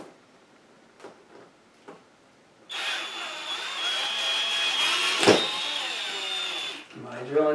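A power drill bites into a sagging ceiling with a loud, whining run of a few seconds that strains and peaks before stopping, preceded by quiet handling knocks and followed by a short spoken remark.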